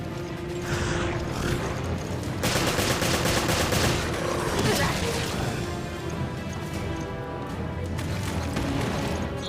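Gunfire in the video game Resident Evil Revelations, a burst of sharp repeated shots and mechanical clatter clustered in the middle, over a dense game soundtrack with faint background talk.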